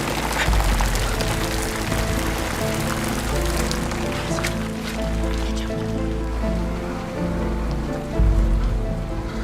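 Steady rain falls on a surface in a continuous broadband wash of droplets, with a low rumble and a sustained musical drone layered underneath throughout.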